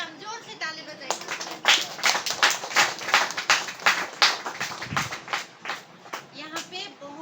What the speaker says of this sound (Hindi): आइए इस वचन के लिए हम जोर से ताली बजाएंगे